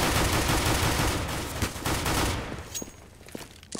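Dense, sustained gunfire in Counter-Strike: Global Offensive, loud and continuous at first, then thinning into a few sharp, scattered shots as it fades toward the end.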